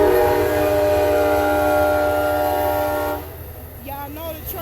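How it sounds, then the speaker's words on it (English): A train rumbles past at close range with steady wheel and engine noise, loud and continuous, then drops away abruptly as it clears, leaving quieter outdoor background with faint chirps. "y'all know the train had to make an appearance in all my videos."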